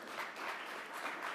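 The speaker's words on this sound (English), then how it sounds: "I would just ask you to give them a round of applause" A conference audience at an ocean and human health event gives a steady round of applause, a dense wash of clapping at moderate distance with no voices over it.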